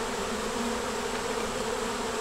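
Honey bees around an open hive, a dense, steady buzzing hum filling the whole stretch at close range with no voices.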